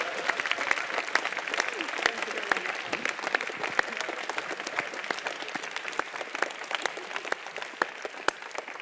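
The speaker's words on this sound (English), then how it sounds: "So give a round of applause to yourselves for coming and for all that you contributed." Attendees at the closing session of EA Global San Francisco 2016 applaud themselves, a sustained crowd of many hands clapping in a thick, even patter heard from within the room, with faint voices mixed in.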